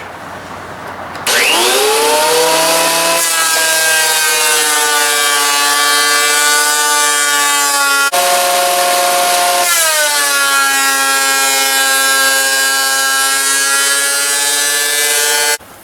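A power planer or thickness planer whines loudly and steadily as mahogany dulcimer boards are taken down to 1/8 inch, with a brief dip partway through before the machine runs on. No voices are heard.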